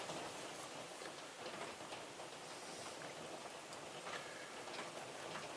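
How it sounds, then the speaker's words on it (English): Steady rain falls outside in a continuous, even hiss with scattered louder drops, heard alone throughout at a constant level. "can't get over that rain, man"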